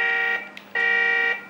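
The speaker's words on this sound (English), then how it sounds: "That's the horn." Horn of a LESU 1/14 RC hydraulic articulated dump truck: a steady electronic tone sounding twice in quick succession, loud and close, with a short gap between blasts.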